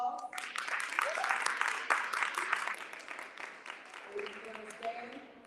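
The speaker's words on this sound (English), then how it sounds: "And as we take this under this applause" Applause from an assembly audience at a women's gathering, moderately quiet and steady, fading toward the end as a voice speaks over it.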